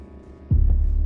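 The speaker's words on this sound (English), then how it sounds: "Why am I hearing like a heartbeat?" A heartbeat in the Autopsy Simulator video game sets in halfway through as a loud, close, low throbbing pulse, repeating quickly over a faint background hum.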